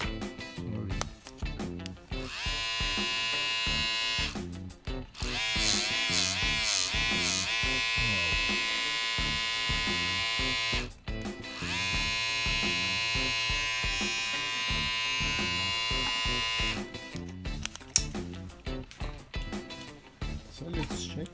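A Babyliss Pro FX VGR-011 hair clipper runs with a loud, steady, close motor buzz that cuts out briefly a few times before resuming.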